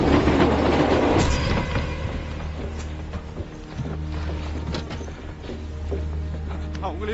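A train rolls along the rails in a dubbed Hollywood film scene, a steady loud low rumble with some clatter and a brief swell near the start, running continuously throughout.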